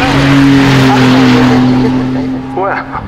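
A Maserati MC20 supercar with a 3-litre V6 of 621 horsepower roars loudly and close, its engine note holding steady and rising, then fading with brief tire noise, while voices talk at a Goodwood motorsport festival.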